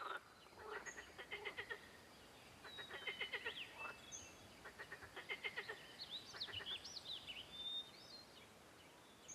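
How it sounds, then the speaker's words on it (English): Male green frogs and tree frogs call during breeding season, rapid pulsed croaking trills in repeated bursts, fairly faint and distant, with a few bird-like chirps mixed in outdoors. "At the time of reproduction, the males croak with all their force to attract females by swelling their vocal sacs, which amplifies their songs."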